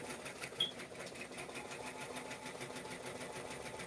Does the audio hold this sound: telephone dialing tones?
no